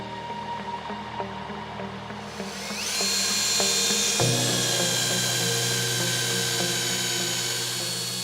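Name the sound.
drilling a bore into a gear unit housing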